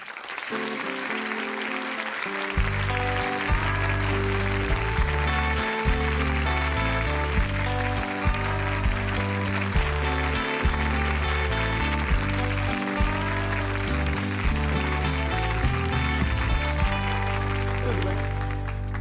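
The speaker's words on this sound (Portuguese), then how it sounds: "peço que vocês recebam com seu aplauso Fernando Aguzoli" A television studio audience claps for a guest on a talk show, sustained dense applause throughout, with music playing underneath.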